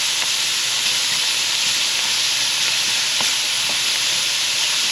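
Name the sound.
vegetables frying in wild hog grease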